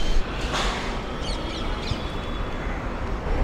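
Crows caw a few times in short, scratchy bursts at middle distance above a rooftop in Mumbai, set against a constant wash of city traffic and construction noise.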